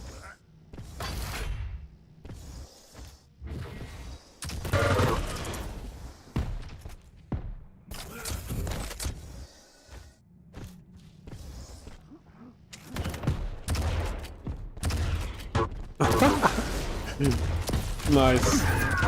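Repeated bursts of gunfire and explosive rocket blasts from the arena shooter Quake Champions, dense and punchy throughout, with a person talking over the action.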